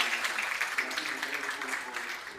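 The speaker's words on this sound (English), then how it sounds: "Round of applause for Arturo" Applause from a keynote audience at a conference, a fairly faint, steady patter of many hands that runs at an even level throughout.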